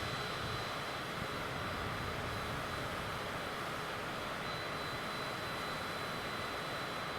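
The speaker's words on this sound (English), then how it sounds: "It is fun to fly in a jet that has a lot more power." Steady, loud roar of a jet airplane's engines heard from inside the cabin in flight over Utah's national parks, a continuous broadband drone with no talking.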